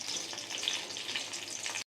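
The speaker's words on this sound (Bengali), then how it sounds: "এই যে মাছ ভাজি, মাছ ভাজা বসিয়ে দিয়েছি।" Large fish frying in a pan, giving a steady close hiss and crackle of hot oil for about two seconds before stopping abruptly.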